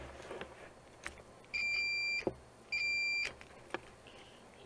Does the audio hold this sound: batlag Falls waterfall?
no